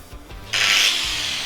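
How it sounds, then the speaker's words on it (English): An angle grinder scrapes stickers and paint from the side of a car, a harsh, loud abrasive rasp that starts abruptly after faint handling noise and holds steady to the end. "Grinder! Grind it off."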